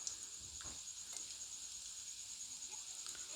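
Bitter gourd pakoras frying in oil, heard as a faint, steady hiss of sizzling with scattered small pops and ticks, continuous and fairly quiet throughout.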